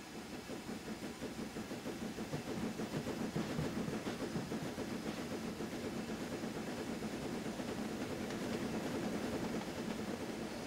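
A simulated J50 steam locomotive rolls along the rails in a train-simulator game, giving a faint, steady rhythmic chuffing and clatter with no voices.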